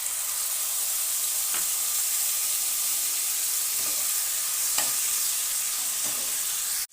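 Eggplant frying in hot oil with ground spice paste, stirred in a pan: a steady, loud sizzle throughout with a few soft scraping strokes of the spoon, and no talk.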